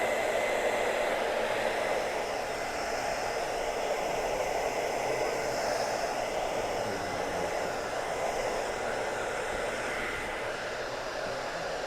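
A hair dryer blows steadily at close range, a constant loud whooshing hum with no pauses throughout.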